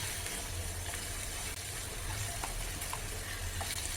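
Chopped ridge gourd stir-fried in a pan without added water, a steady close sizzle and frying hiss throughout with faint stirring clicks.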